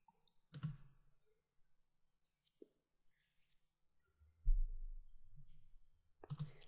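Sparse computer mouse clicks, sharp and close, with a few soft isolated taps in between and quiet background in a home office setting.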